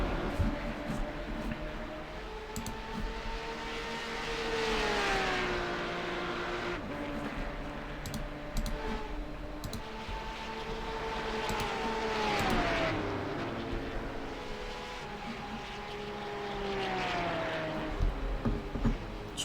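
Race cars at Spa Francorchamps, in a Porsche Carrera Cup GB race, roar past on the track, engines rising and falling in pitch as they accelerate and shift, over a constant loud wash of engine noise.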